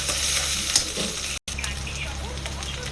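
Ginger and garlic frying in a pan while a chicken and potato curry is cooked, a steady close sizzle with stirring scrapes running throughout, broken by a brief gap, with faint voices in the background.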